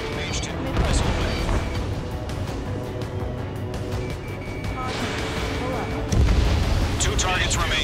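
A missile launching from a fighter jet in the combat flight game Ace Combat 7, a loud rushing roar over dense battle noise, with booming surges near the start and again toward the end.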